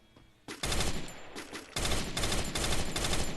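Rapid automatic gunfire in the video game Free Fire, loud dense bursts starting after a brief quiet moment, with short gaps between sustained volleys and no speech.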